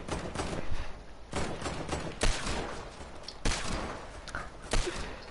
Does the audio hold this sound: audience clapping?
no